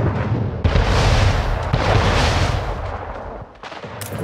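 Heavy booms and blasts pound repeatedly as ships bombard an island in the video game Anno 1800, rumbling explosions overlapping one another in a loud, continuous barrage of artillery-like fire.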